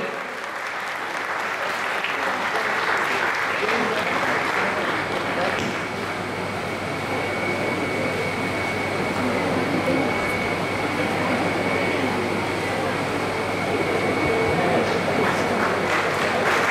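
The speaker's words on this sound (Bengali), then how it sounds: "আরেকবার হাততালি দয়া করে।" Sustained audience applause fills a stage event hall, steady and dense throughout, with a faint voice now and then beneath the clapping.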